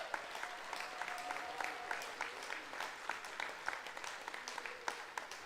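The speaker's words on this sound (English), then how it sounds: "Let's give them a huge round of applause." Crowd applauding at a baseball park during a London Majors game, a broad, sustained wash of clapping from many hands heard from a distance with a few sharper claps standing out.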